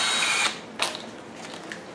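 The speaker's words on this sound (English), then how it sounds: "We're going to drill a 9/64 drill hole right through here" A power drill whines as it bores a 9/64 hole through a plastic flange while installing a Champion 4500 generator extended-run fuel kit: a loud, steady whir for half a second, then brief scraping bursts as the bit cuts through.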